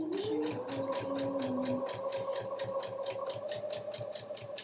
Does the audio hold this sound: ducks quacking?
no